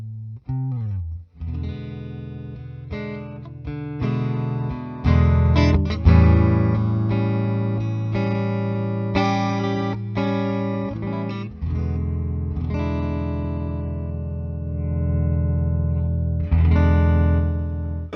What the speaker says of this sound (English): I'm playing through a Fender Deluxe Reverb, and let's just see what these sound like.